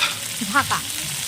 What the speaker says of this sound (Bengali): কচু আর বেগুনটাকে আমি ভালো করে একটু ভেজে নিচ্ছি।